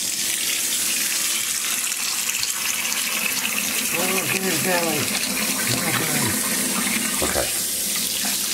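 Tap water runs steadily in a sink while a pet monkey is washed, a constant close gush under a man's brief spoken remark, with faint animal-like chirps mixed in.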